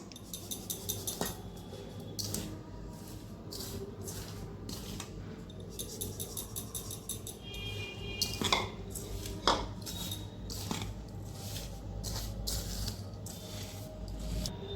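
Powdered and whole sugar are mixed together in a bowl with a utensil, making quick clattering scrapes and clinks in bursts, close and fairly quiet, over a low background hum.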